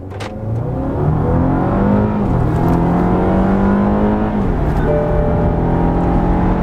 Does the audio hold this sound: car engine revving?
yes